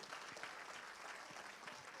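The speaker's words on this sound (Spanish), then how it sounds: "denle fuerte el aplauso al Een Señor." A church congregation claps together during a sermon, a steady wash of applause filling the whole stretch without pause, fairly distant and even in level.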